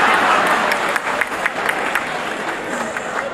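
Audience clapping at a live comedy stage show in Patna on Bihar Diwas, a dense sustained round of applause from a large crowd, loud and close, with faint crowd murmur underneath.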